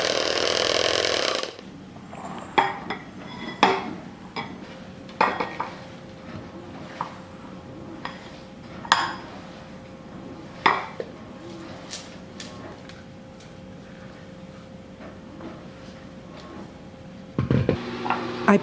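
Blended cream cheese scraped and transferred into another bowl for a no-bake Oreo cheesecake, with scattered utensil clinks and knocks against the bowl over a quiet kitchen background.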